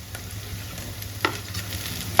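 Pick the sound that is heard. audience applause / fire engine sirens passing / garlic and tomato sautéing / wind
garlic and tomato sautéing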